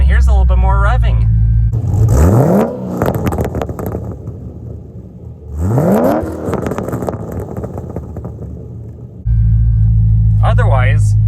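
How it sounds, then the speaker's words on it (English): C6 Corvette with an LS3 V8 roaring to life, then revving in two sharp rising bursts that settle back to a deep idle rumble, loud and close. "when you fire it right up, push button start, roars to life, the needles dance, and here's a little bit more revving."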